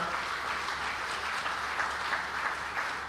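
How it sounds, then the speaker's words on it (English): Steady, dense applause from a conference audience for a governor at an investment conference in Kilifi, a continuous wash of clapping that holds an even level throughout. "Another round of applause for Governor."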